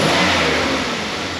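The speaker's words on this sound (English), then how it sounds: "I'll show you a snap throttle just for fun." A car engine snapped open on the throttle, surging into a loud rev and holding a high, steady roar for about a second and a half, with no talk.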